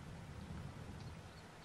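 A thunderstorm rumbles in Farming Simulator 22, a steady low roar of rain and distant thunder filling the whole stretch at moderate level, with no voices.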